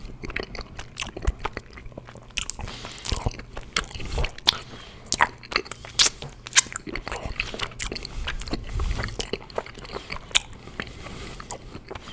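Close, wet biting and chewing of chocolate-covered marshmallows, with soft squishy bites and smacking mouth sounds repeating irregularly throughout, intimate and up front.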